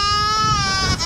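A goat's loud, close bleat carries through a single wavering cry on a farm, with a painted horse nearby and no talk.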